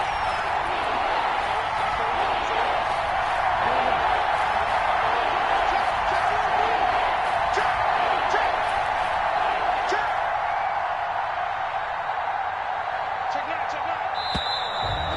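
At an American football game, a stadium crowd keeps up a loud, steady roar with scattered whoops, while a commentator talks over it.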